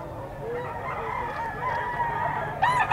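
A Kelso gamefowl stag at a breeders' market crows loudly and near at the end, after a few seconds of other fowl calling and clucking in the background.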